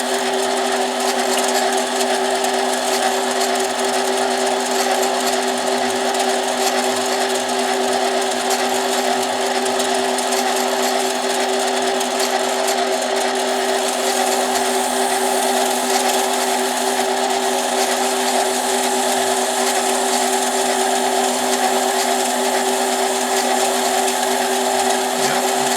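Rotary burr in a high-speed tool grinding a Husqvarna 272 chainsaw piston for porting, a steady loud whine that holds one pitch for the whole stretch at close range, with no talking.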